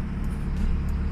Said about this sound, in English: I had to give it a little rev while I was sitting under the service bay awning